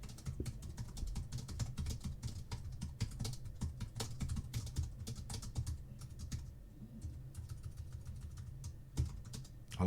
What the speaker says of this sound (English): I like this keyboard. It's quite noisy.